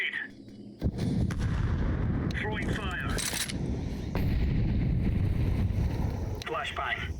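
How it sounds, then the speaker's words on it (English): Grenades thrown in the video game Counter-Strike 2: a burst of gunfire-like blasts and whooshing bursts with wind-like rush over a loud, busy game mix, with a voice talking at times. "Throwing smoke. Grenade. Throwing fire."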